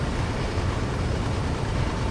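A train engine in the Train Sim World video game roars as a loud, steady, broadband rumble, heavy in the low end and without breaks.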